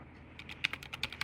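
Keys on a computer keyboard clatter out a quick burst of about ten crisp taps while code is being entered, fairly close and clear with no voice over them.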